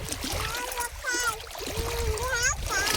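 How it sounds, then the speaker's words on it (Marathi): Freshly cut pieces of khadshi fish are washed by hand in water, with continuous splashing and sloshing close by under a woman's speech and a voice. "कापून झाला तर धुवून घेते"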